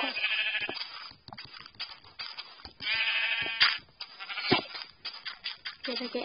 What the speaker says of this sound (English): I'm being chased by sheep.